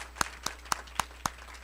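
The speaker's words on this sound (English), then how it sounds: "One more round of applause." Hand claps at a Big Brothers Big Sisters fundraising breakfast event: five sharp, evenly spaced claps in a steady rhythm, fairly faint and distinct, more like one or two people clapping than a full crowd, with no talking over them.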